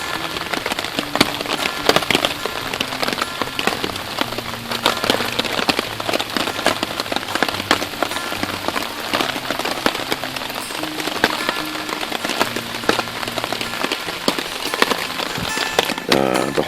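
Rain falls on a camping tarp during a storm, a dense constant patter of drops close overhead, with a faint repeating low tone running underneath.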